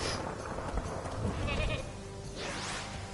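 A goat in Crash Bandicoot N.Sane Trilogy bleats once near the end of the clip, a wavering cry over a busy bed of game music and effects.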